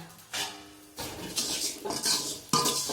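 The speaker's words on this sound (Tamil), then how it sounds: "லைட்டாக ஆயில் ஊற்றி கொத்தமல்லி வறுத்துட்டுருக்குறாங்க" Coriander seeds roast in a pan with a little oil and are tossed with a utensil, making close, dry rattling and scraping bursts in quick succession, with no talking.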